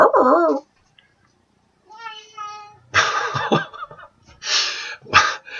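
A dog whimpers in a few thin, high whines between breathy gasps and short bursts of sound, fairly close.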